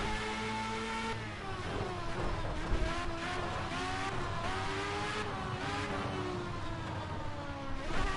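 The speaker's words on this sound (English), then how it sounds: "Loving the engine noise. Yeah, these Formula A's." Formula A open-wheel race cars in the racing game Project CARS 2: a high, strained engine whine rising and falling through gear changes, with overlapping cars and faint tire noise, loud and continuous.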